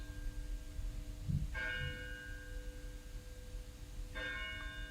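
Church bells ring at 8 o'clock on a quiet morning, two clear resonant strikes a few seconds apart, heard at a distance over a soft outdoor hum.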